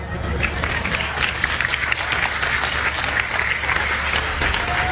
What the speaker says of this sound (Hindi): आप ताली बजाते हो, आप ताली बजाते हो